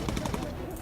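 Bomber machine gun fire in the Bomber Crew video game, a brief rapid rattle of shots running continuously through the moment amid dense game noise.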